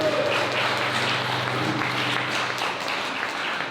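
A crowd at an AI talent event in Tijuana, Baja, gives a round of applause. The clapping is even and continuous throughout, over a faint steady room hum.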